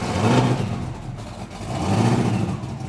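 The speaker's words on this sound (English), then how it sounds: "Let's crank this baby and hear this thing running" A freshly cranked FT700 engine runs steadily and loud, its low rumble swelling, easing back mid-clip, then rising again.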